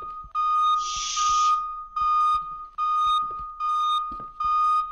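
In a film scene, a smoke alarm gives a series of shrill electronic tonal beeps in a steady repeating pattern, loud and close, with a brief hiss of blown air early on.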